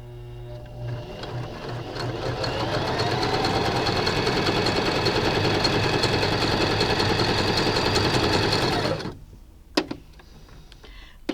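A mechanical sewing machine stitches a wide, long zigzag, giving a steady rapid whirring clatter that runs close and loud for about nine seconds, then stops, followed by a few light mechanical clicks.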